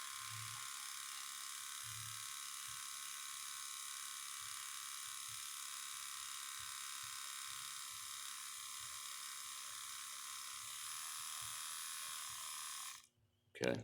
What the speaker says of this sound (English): you hear the fuel pump running